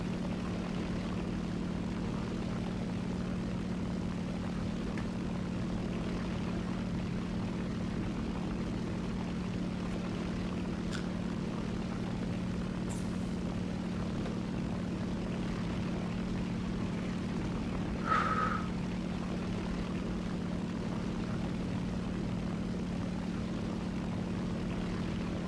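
J2M5 fighter's propeller engine in War Thunder air arcade, a continuous steady droning hum held at constant pitch throughout, with faint whooshes and one short sharp game sound partway through, no talk.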